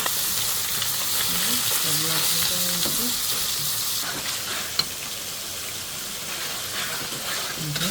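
Spice paste sizzling steadily in a pan while being stirred, a loud continuous frying hiss with a few soft stirring scrapes and a brief voice in the background.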